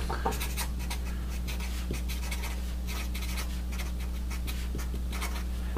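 Pen or marker scratching steadily while an equation is written, a quick series of close strokes over a constant low hum, with no talking.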